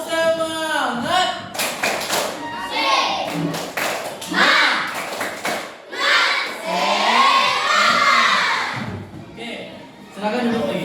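Classroom children shout a rhythmic clapping chant in unison to warm up before a lesson, with loud claps in patterned bursts between their chanted words, the whole group near and energetic.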